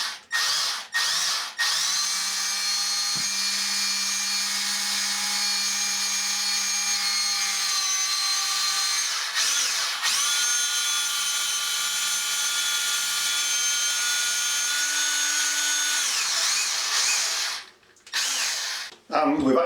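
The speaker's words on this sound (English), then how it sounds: "Obviously the drill needs to be rotating in a clockwise direction." A power drill running clockwise bores into a thermalite block wall without hammer action, a loud, close, sustained whine that briefly drops and resumes, stopping and starting near the end.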